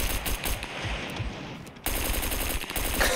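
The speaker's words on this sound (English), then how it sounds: "Oh, that railgun shot." Railgun fire in the survival shooter Scum, dense rapid crackling bursts with a sharp renewed blast midway, loud and continuous with no pause.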